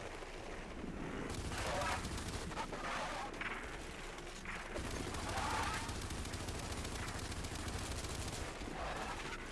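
Bursts of Gears 5 gunfire crackle and boom in rapid sustained volleys, loud and dense, with brief gaps between strings of automatic shots.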